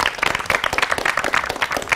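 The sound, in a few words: studio audience applause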